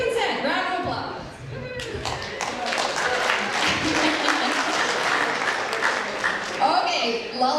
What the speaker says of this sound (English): So yay for consent, round of applause.